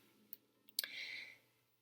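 Tarot cards being shuffled by hand, heard up close and quietly: a few sharp clicks followed by a short riffling swish that fades out.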